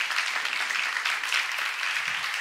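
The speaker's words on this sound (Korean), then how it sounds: "박수하세요." A church congregation claps steadily, a dense even wash of hands sustained for a couple of seconds at moderate volume, with no voices on top.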